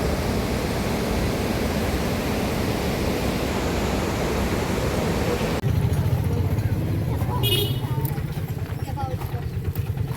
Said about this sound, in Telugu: చూడండి నీళ్ళు ఎట్లా పోతానే